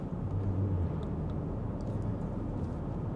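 The B58 engine of a BMW X5 45e with ECU tune and OPF delete, cruising in 8th gear with the exhaust valves closed, gives a low, steady, subdued drone that stays even throughout without voices.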